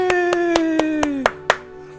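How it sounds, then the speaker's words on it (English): One person clapping hands in self-congratulation, seven sharp claps at a quick, steady pace, the last two louder, with a sustained electronic tone sliding down underneath. "I'm applauding for myself."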